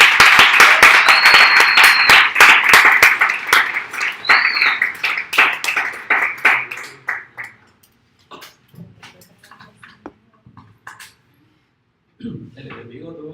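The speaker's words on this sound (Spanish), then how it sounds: "Denle un aplauso a él." Congregation at a Spanish-language church service giving a round of applause, loud dense clapping that thins into scattered claps and stops, followed by a voice speaking.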